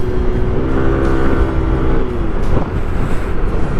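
Yamaha NMAX Turbo scooter coasting on a provincial highway with throttle closed and no brakes applied, engine braking as a continuous rushing drone under heavy wind noise, loud and close.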